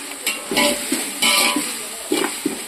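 Chicken biryani base sautéing in a pan with ground mint and coriander paste mixed in: a steady close sizzle broken by a few brief scraping and clinking strokes of the stirring spoon, with no talk.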